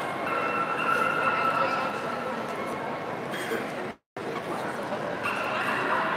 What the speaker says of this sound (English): Look at this beautiful dog.